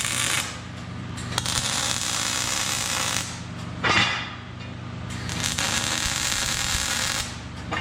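Tack welding on a steel sheave assembly: a steady crackling arc buzz runs nearly throughout, broken by brief pauses and a sharp burst near the middle, loud and close with no talk.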